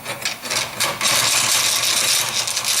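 A metal file rasps against a part spun on a hand-cranked homemade lathe grinder, a loud, close scraping that becomes a steady continuous grind after a brief uneven start.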